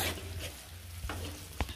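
Cumin and mustard seeds frying in a pan, a faint hissing sizzle with a couple of brief sharp pops or taps near the end.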